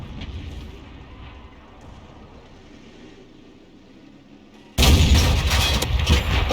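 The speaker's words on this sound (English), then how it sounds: "All we're seeing is a tank pulling back after shooting and then having to look to see what the results were." A GW Panther self-propelled artillery tank fires in a video game: a sudden loud, heavy blast breaks in near the end and rumbles on over a quiet ambient background.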